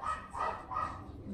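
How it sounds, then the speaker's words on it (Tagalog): Dogs barking in the background of an indoor home setting, three faint, evenly spaced barks at a moderate distance. "Sorry sa background noises ng mga aso."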